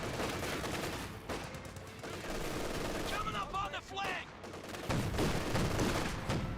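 Battle noise from Company of Heroes 2 with an MG42 machine gun firing in a close-range fight, steady rattling fire and shots mixed with explosions in the background.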